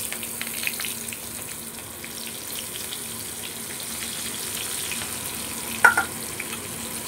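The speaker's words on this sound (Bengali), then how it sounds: "তো পেঁয়াজটা আমি হালকা করে ভেজে নিচ্ছি।" Chopped onions fry in oil, a steady faint sizzle running throughout with a brief louder crackle near the end; no talking.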